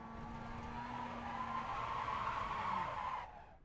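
A race car in the iRacing sim spins out, its tires screeching in a long, steady skid under the engine drone before the squeal cuts off abruptly; no one talks.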